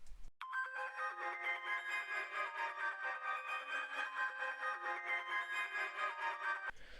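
Layered synth parts from a remix with automated filter movement, a sustained bright chord pad pulsing gently for several seconds before cutting off, heard alone and fairly quiet.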